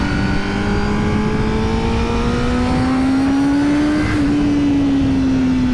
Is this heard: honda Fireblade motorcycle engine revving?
yes